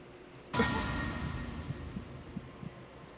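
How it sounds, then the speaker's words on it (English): A low, throbbing heartbeat from the Zero Escape: 999 video game kicks in with a sharp onset, then pulses steadily under a droning hum, its thumps repeating in an even rhythm. "Junpei felt his heartbeat quicken"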